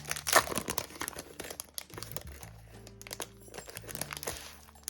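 A sheet of watercolour paper from an art set unboxing is handled and crinkled up close, giving sharp crackling bursts and rustles that come and go over a few seconds.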